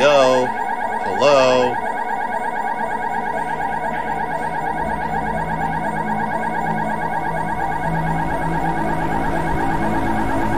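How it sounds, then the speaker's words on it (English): A loud electronic alarm wails continuously with a pulsing, siren-like tone, a brief voice-like burst near the start and the alarm running unbroken to the end. "That fucking alarm scared me."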